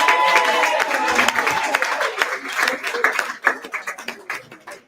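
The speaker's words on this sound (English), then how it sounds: "Can we please have a round of applause for Dominic Clark in the room?" A crowd at an Essence Magazine 55th anniversary celebration claps and cheers in a burst of applause that gradually thins into scattered individual claps.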